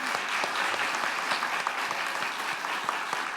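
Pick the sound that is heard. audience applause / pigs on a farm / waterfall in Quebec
audience applause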